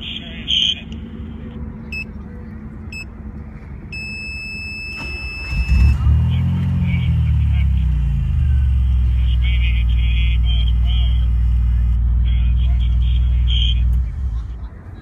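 A DeLorean engine starting on remote command from an Intel Edison board: brief electronic beeps, then the starter cranks and the engine catches into a loud, steady idle rumble that holds before cutting off.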